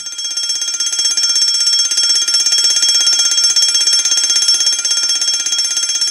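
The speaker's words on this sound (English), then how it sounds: "That's an alarm sounded by the International Atomic Energy Agency, IAEA." Continuous high-pitched electronic alarm ringing steadily without pause, loud and shrill with a rapid buzzing warble, sounding alone throughout.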